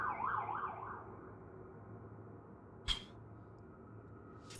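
An ambulance siren in the street wails up and down for about a second, then fades into the distance, followed by a quiet hum and a single sharp click.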